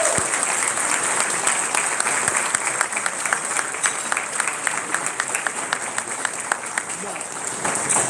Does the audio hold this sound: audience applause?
yes